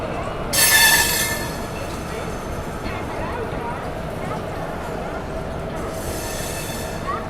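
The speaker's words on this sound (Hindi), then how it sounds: "तो दोस्तों अपनी ट्रेन 5-7 मिनट देरी से ही सही टाटा नगर स्टेशन पहुंच चुकी है" Howrah Pune Duronto express train arriving at Tatanagar station platform, a steady close rumble of rolling rail cars with a bright hissing squeal early on and again near the end.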